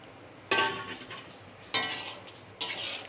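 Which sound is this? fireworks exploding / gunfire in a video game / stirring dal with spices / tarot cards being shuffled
stirring dal with spices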